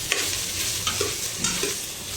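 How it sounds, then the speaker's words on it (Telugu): Cinnamon and star anise frying in an electric pressure cooker are stirred with a spoon, giving close, steady scraping and light sizzling with a few distinct knocks, no voices over it. "ఇప్పుడు దీంట్లోకి దాల్చిని స్టార్ అనాస వేసుకున్నాం. ఒకసారి తిప్పుకున్నాం."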